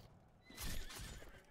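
A horse in a video game lets out a short, loud neigh that rises and shudders for about a second over a faint background hum.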